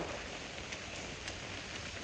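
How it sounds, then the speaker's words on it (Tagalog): Dense, steady downpour of heavy rain outdoors in Tai Shui Hang, a constant loud hiss with no pauses and no voices. "Lakas ng ulan."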